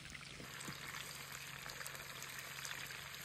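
Food frying in a pan at a night campsite, a faint, steady sizzle and crackle that runs without a break and with no voices.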